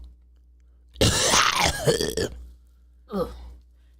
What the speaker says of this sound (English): I think I need to clear my throat